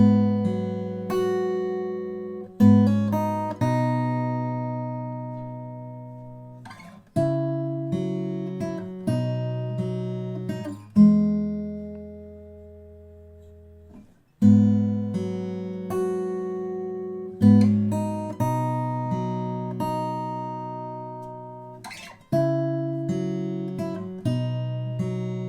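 Acoustic guitar plays the bridge of a song, picked without a capo: plucked chords ring out and decay, with a quieter sustained stretch in the middle, played alone and close.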